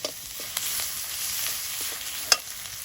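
Potatoes frying with salt, turmeric and spices in a pan, a soft steady sizzle broken by occasional sharp clinks and scrapes of stirring, close by.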